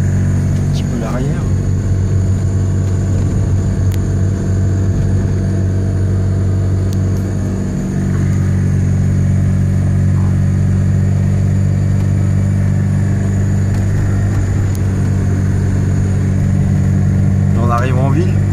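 A Ligier JS50 L Élégance DCI microcar drives along, its engine giving a steady, droning hum heard from inside the cabin throughout, while someone talks over it.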